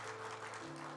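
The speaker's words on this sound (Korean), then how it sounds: "우리 같이 박수로 환영하도록 하겠습니다" Applause in a Korean church service welcoming a newly arriving youth-group pastor, a steady continuous wash of many hands clapping through the whole moment, fairly faint with a low hum beneath.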